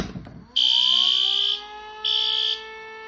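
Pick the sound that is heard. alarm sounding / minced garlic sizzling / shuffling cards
alarm sounding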